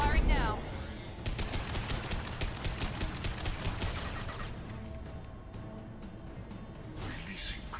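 Rapid bursts of video game gunfire crackle through the first half, dense and fairly loud, then thin out into scattered shots and ambient rumble toward the end.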